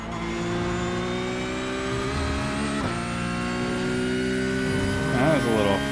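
Porsche 911 GT3 Cup race car in iRacing at VIR, engine droning loud and close as its pitch climbs slowly and steadily, with a brief shift dip partway through and a rougher flutter near the end.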